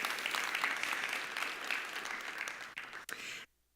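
Conference audience applauding, dense steady clapping from many hands that thins out and stops abruptly, ending in silence.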